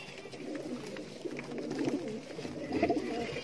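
Soft, low cooing of several pigeons, repeated murmurs over a steady background hum, moderately close.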